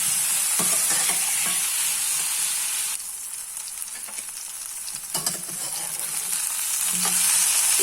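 Ingredients for raw tomato chutney sautéing in a pan, a steady close-up sizzle broken by stirring scrapes and spatula knocks, briefly softer midway before building up again.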